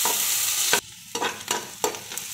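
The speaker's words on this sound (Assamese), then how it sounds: "আৰু এতিয়া তেলখিনি গৰম হোৱাত ইয়াতে দি লৈছোঁ মেথি গুটি কেইটামান আৰু লগতে পিঁয়াজ এটা কুটি লৈছোঁ" Fenugreek seeds and chopped onion frying in hot oil for a fish curry, a loud bright sizzle that suddenly drops, then several short bursts of crackling and stirring scrapes up close.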